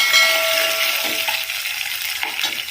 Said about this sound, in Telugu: లవంగా వేసుకొని వీటిని మంచిగా ఫ్రై చేసుకోవాలి